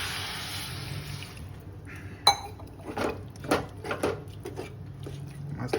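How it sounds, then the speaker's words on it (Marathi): A glass of water is poured into chicken leg masala gravy in a home kitchen. A short rush of pouring liquid is followed by clinks of the glass and utensils against the pot. The sounds are fairly quiet and intermittent. "1 पेलाभर पाणी टाकून घेते"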